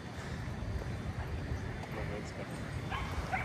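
Dogs bark and yip in a busy San Francisco park, faint and distant under steady outdoor wind noise and nearby people talking.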